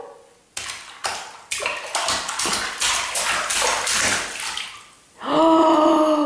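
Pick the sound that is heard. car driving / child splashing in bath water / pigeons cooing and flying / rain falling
child splashing in bath water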